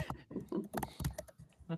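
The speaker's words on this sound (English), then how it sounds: "That was you typing?" Computer keyboard typing heard faintly, a quick run of soft clicks mixed with quiet talk in the background.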